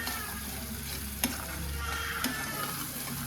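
Cashews for a kaju gathiya curry are mixed in a hot pan, giving a continuous close sizzle of frying with two sharp spatula scrapes against the metal.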